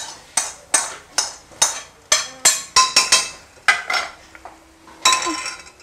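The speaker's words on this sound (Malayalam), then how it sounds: "നമുക്ക് ഈ സവാള ഞാനിതിൽ ഇടാൻ പോവാണ്." Chopped onion goes into a pot for chicken soup, a run of sharp clinks and clatters of utensil against the pot, then a soft sizzle as it lands, close and without talk.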